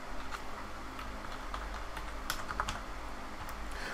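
Typing on a computer keyboard to rename a subtool in ZBrush, a run of close, crisp key clicks in an uneven rhythm over a low background hum, with no talk.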